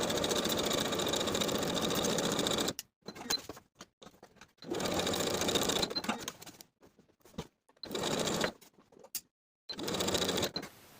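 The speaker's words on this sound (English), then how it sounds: "I'll sew the bottom edge of the pocket in place and baste the side edges." Sewing machine stitching and basting the pocket of a dress, running in several loud steady bursts of rapid whirring separated by short pauses and quiet handling, close up.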